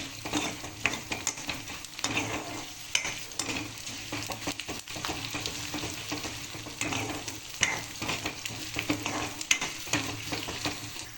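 Urad dal and chana dal fry in a pan with a steady oily sizzle, while a spoon stirs and scrapes against the pan at a close, busy, uneven rhythm throughout.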